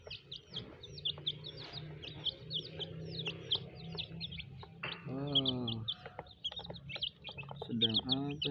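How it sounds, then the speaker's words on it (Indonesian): A flock of colorful rainbow chickens clucks and cheeps, with rapid high chick peeps throughout, a steady low purr, and a couple of louder, closer clucking calls. "lumayan banyak adik-adik ayam rainbownya"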